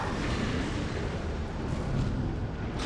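Gunfire from Armored Core VI roars in a dense, loud and unbroken barrage of blasts and rumbling booms.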